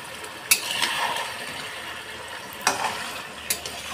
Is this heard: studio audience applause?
no